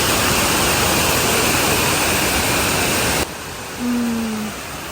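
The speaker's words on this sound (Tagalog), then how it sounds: "Ang Encanto Falls." Engkanto Falls, a waterfall in Bicol, gives a loud, steady roar of rushing water that abruptly drops to a softer rush partway through.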